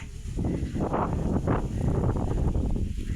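Strong wind buffets a phone microphone outdoors in rural farmland, a steady loud rumbling roar with gusty swells running continuously throughout.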